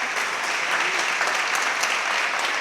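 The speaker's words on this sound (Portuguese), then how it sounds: "dá um aplauso a Jesus por isso" A church congregation applauds together during a Portuguese-language sermon, a continuous broad roar of many clapping hands filling the worship space, steady and full with no voices standing out.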